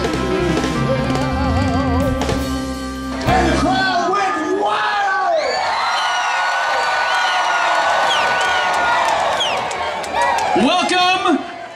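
A concert crowd at a Pensacola Beach party screams, whoops and cheers loudly and continuously, with music and amplified voices underneath at first before the shouting swells and carries on.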